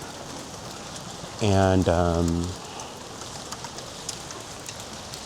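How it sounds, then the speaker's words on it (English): Steady rain falling on a Lisbon street makes a soft, continuous hiss, with one person speaking briefly over it. "This week has a bit of rain, as you can see."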